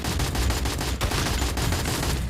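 Rapid automatic gunfire from Free Fire rattles in a dense, loud, unbroken burst of shots, close up and alone.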